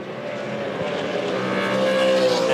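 Ford V8 Supercars racing at Darwin in 2006, a loud sustained engine roar rising in pitch as the cars pass close, with a hint of tire noise.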